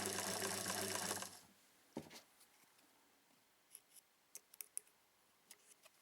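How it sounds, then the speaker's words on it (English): A vintage Singer sewing machine winding thread onto its bobbin runs loud and steady for about a second, then stops; sparse faint clicks and taps follow alone. "Continue winding until there's sufficient thread on the bobbin."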